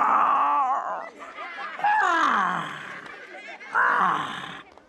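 A voice imitates a lion's yawn, a long, loud, drawn-out groaning roar that rises and sinks, then breaks off and returns in a second strong burst near the end.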